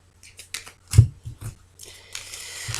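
A deck of cards being cut during a card reading, with several crisp, close riffles and snaps, followed by a longer shuffling rustle near the end.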